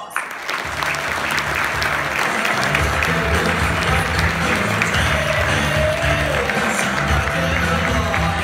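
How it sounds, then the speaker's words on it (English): An audience at an award event for the Energy Educator of the Year breaks into sustained applause, a dense, loud wash of clapping that builds quickly and holds steady throughout. "Let's give our education leader, Tao, a round of applause."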